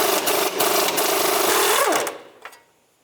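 A 20 mm socket tool spins a castle nut off the tie rod end of a 2003-2009 Subaru Outback, giving a steady, loud whirring buzz for about two seconds before it stops, with one short tap after.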